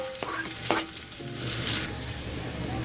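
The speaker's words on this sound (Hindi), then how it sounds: "अब ये भून लेंगे हम।" Two medium onions fry in hot oil in a pan for a gram flour curry, a steady soft sizzle broken by a couple of sharp clinks from stirring with a spoon.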